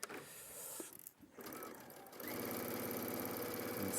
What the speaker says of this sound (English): And sew that.